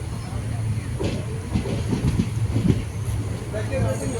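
The Malabar Express passenger train rumbles steadily with rhythmic clacking and hiss as it departs Manjeshwar station, while people talk over the noise.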